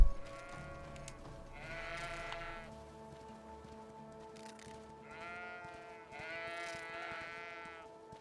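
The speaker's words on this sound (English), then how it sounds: "Are those sheep?" Sheep bleat in the video game GreedFall, two or three bursts of wavering nasal calls over a steady low hum and soft background patter.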